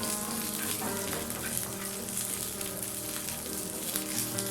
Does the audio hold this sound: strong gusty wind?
no